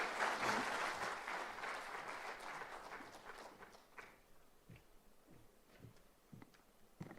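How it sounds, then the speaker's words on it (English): Applause from the audience at the Africa Food Systems Forum launch ceremony, fairly quiet and distant, strongest at the start and fading into scattered claps and faint footsteps. "Once again, a round of applause to Mr. Amath Patesene."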